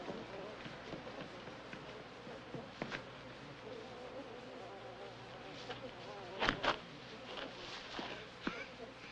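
A swarm of bees buzzes steadily in a dense, continuous drone in a 1978 film scene, with scattered louder thumps and movement noises rising over the hum.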